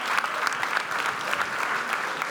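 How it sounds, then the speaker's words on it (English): A comedy club audience breaks into dense, steady applause that fills the room for the full stretch, loud and close, with no talk over it. "Give me a clap if you've been on a studenterkørsel."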